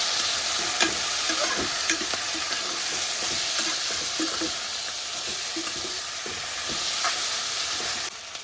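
Shredded coconut stirred and roasted in a pan, a steady close sizzle and hiss with scraping spoon strokes throughout, no voices.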